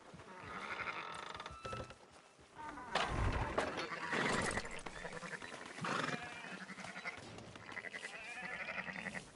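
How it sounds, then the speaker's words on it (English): Sheep in Red Dead Redemption 2 bleat repeatedly at close range, a string of loud wavering calls that overlap and rise and fall over ambient game sound. "Fine sheep."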